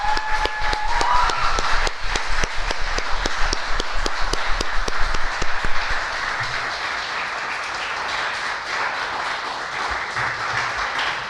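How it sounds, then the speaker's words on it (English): A crowd at a National Honor Society induction and awards ceremony applauds the students, rapid steady clapping filling the hall at first and then thinning into a softer, sustained patter. "they can give a round of applause to the students."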